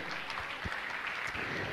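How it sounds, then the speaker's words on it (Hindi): Moderate applause from a gathered congregation at a religious discourse event, quiet and somewhat distant, with scattered individual claps standing out over a continuous patter. "मैं चाहूंगा हमारे पुण्यालयों के लिए जोरदार तालियों का सम्मान करें"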